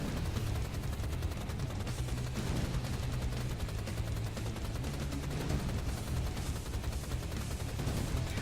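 Weapons fire rapidly in the shooter game Rise of the Triad, with dense, continuous bursts of shots running unbroken over steady game noise.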